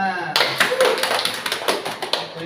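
A classroom group claps together, a burst of close applause that starts abruptly, peaks and then thins into scattered claps, with voices audible in the room.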